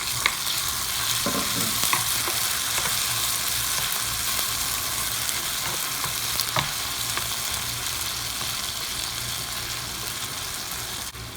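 Garlic, onion and tomato sauté in a pan for sardines with bitter melon leaves, producing a constant even sizzle with occasional light scrapes and taps of a spatula, no voices.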